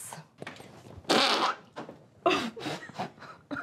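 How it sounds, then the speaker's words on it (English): Despicable Me 4 fart blaster toy letting out a string of loud, sputtering fart blasts, a couple of long raspy bursts among shorter puffs, close and alone with no talking. "this Despicable Me fart blaster takes that toilet humour to the next level"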